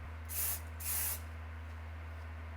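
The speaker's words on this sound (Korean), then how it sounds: "근데 굳이 제가 왜 이 스프레이를 쓰냐면 좀 보여드릴게요." Hair spray from an aerosol can is sprayed in two short hissing bursts close by during hair styling, with a steady low hum in the background.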